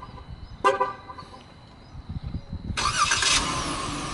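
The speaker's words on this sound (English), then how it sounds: "this one has a remote start, so I'm going to go ahead and start up" A 2015 Dodge Durango started by remote: a short horn toot first, then the engine cranks and catches into a steady idle, heard up close with no talk.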